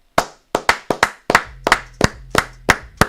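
Ten sharp hand claps ring out one after another at a slightly uneven pace, loud and close, with a faint low hum under the later claps and no talking.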